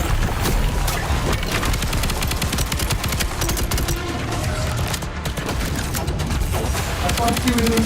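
Dense, continuous video-game gunfire fills the whole stretch, rapid automatic bursts mixed with fusillade-like volleys, loud and close with no pauses.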